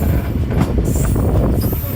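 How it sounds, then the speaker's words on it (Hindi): A passenger train on the Lahore to Kasur line passes through a railway station, a loud, close rumble of wagons and rolling wheels filling the whole moment. "ट्रेन हमारी अब पास थ्रू होने लगी है जी रेलवे स्टेशन से"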